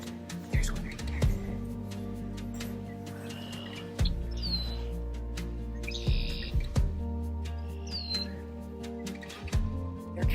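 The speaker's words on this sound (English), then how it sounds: "there's a bunch of red-winged blackbirds making noises out here" Red-winged blackbirds call outdoors among cattails at John E. Pearce Provincial Park, with a couple of short rising chirps standing out over a low, steady background rumble and scattered faint twittering.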